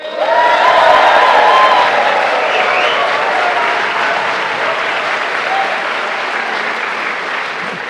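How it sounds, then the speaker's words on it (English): A crowd at a live event in London in 2019 cheers and applauds loudly, a thick wall of clapping with a few voices rising above it, slowly easing over several seconds. "you cheer if that was your favorite"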